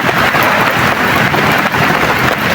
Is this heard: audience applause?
no